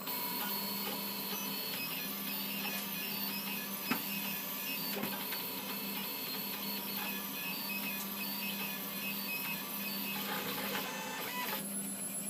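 A 3D printer runs a five-colour print, its stepper motors whirring and buzzing steadily and close by, with a few brief clicks, and no talking.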